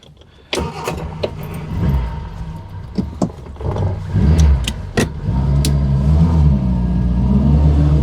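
A Reliant Fox on its way to an MOT test, its engine rumbling steadily up close with low, continuous drive noise and a few sharp clicks and knocks from inside the cabin.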